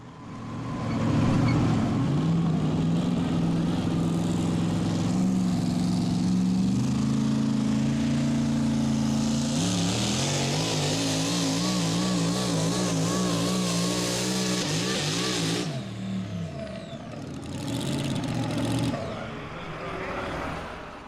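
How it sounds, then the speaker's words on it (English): A Super Chevy pulling truck with a blown 575 cubic inch engine roars loudly down the track at a Western Kentucky state fair pull, its deep drone shifting pitch under load before cutting off and sputtering. "Blown 575 cubic inch engines, a long wheelbase on these trucks"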